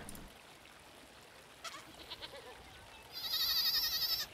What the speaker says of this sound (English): The goat's back.